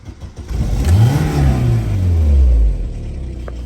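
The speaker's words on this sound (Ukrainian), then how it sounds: "його двигун ось так от працює через раз" Opel Omega engine revving in a garage, running roughly and unevenly with a misfire, a loud close low rumble that rises and holds for a few seconds, then drops back toward idle.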